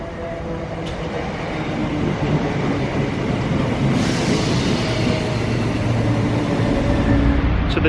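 A train rumbles and hisses steadily at Southend Victoria station in Southend-on-Sea, England, with a dense, broadband roar that grows slightly louder over several seconds, with no talking.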